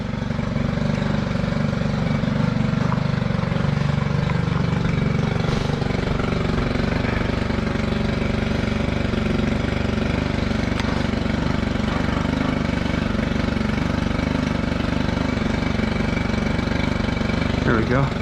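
A Trimmer Plus string trimmer engine runs loud and close with a steady droning buzz and little change in pitch throughout, while a voice speaks over it.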